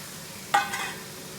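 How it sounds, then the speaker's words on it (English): Meat drops into a hot pan with a quick sharp sizzle burst that fades into a softer hiss within a second, close and alone without talk. "We're just gonna drop the meat in right there."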